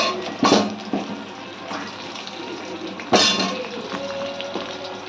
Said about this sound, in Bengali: এবার লম্বা লম্বা কেটে রাখা বেগুনগুলো আমরা তেলেতে ছেড়ে দিলাম।